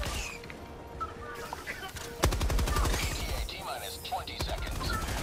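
Assault rifle gunfire in Helldivers 2: a sudden rapid burst of automatic fire erupts partway through, followed by scattered shots and chaotic game effects, with voices talking over the action.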